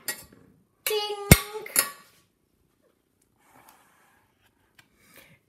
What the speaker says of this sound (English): It's just me playing the pots and pans.